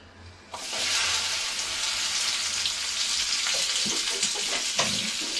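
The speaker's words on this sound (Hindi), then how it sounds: "तो भिंडी को मैंने यहाँ पर फ्राई करने के लिए रख दिया है और फ्लेम को यहाँ पर मैंने हाई किया हुआ है" Okra frying in oil in a kadai over a high flame gives a loud, steady sizzle that starts abruptly and runs on without speech, with occasional crackles and small pops from the hot oil.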